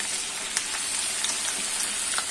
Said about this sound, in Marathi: तर चला मी आता लॉलीपॉप फ्राय करायला घेते।